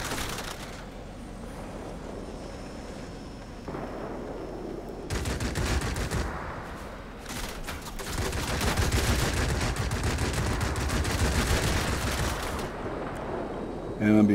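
Gunfire aimed at a fast-moving aircraft at about 500 miles an hour: dense, sustained crackling bursts over a loud roaring wash that swells midway and stays heavy to the end, with no talk.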